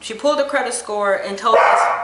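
Dog barking indoors, a few quick yips and barks in the background beneath someone talking clearly over them.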